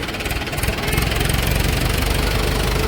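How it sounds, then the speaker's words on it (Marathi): A loud diesel tractor engine chugs and rumbles steadily nearby, its rhythmic knocking growing slightly stronger after the first second. "हे ट्रॅक्टर इकडे इकडलं ट्रॅक्टर आहे"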